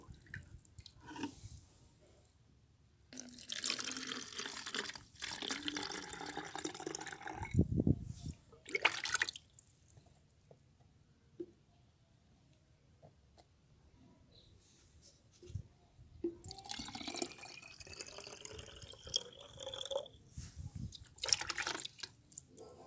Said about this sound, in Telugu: స్ప్రేయర్లోకి మనం ఈ వాటర్ అనేది